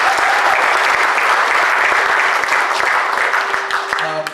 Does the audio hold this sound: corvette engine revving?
no